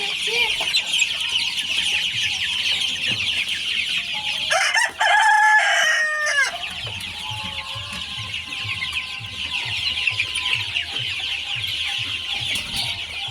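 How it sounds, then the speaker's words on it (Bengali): Chickens on a small poultry farm cluck steadily as they gather to drink, and a rooster crows loudly once partway through, standing out over the flock's constant clucking. "গাইস মুরগিগুলো কিন্তু চলে আসছে পানি খেতে।"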